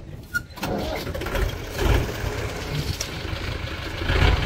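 A farm tractor engine cranks and catches nearby, then settles into a rough, rumbling run that swells and dips slightly, with no voices over it.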